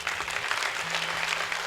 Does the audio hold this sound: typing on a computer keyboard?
no